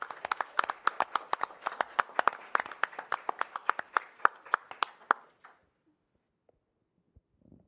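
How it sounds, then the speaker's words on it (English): A small audience applauds award recipients at a school district presentation, with a couple dozen distinct claps at a brisk, uneven rhythm that fades out after about five seconds, followed by quiet. "you could join me and give them a round of applause"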